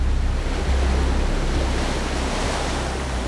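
Sea waves surging and washing steadily off the end of a ship, a loud, dense roar of surf mixed with wind rumble that holds without pause.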